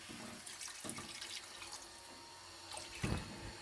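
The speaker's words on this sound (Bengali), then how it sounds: "এর মধ্যে আমি এবার জল দিয়ে দিচ্ছি" Water poured from a bowl into a pan of fried, fully cooked-down spices for a cauliflower and rohu fish curry, giving a soft splashing trickle with a brief louder gush near the end.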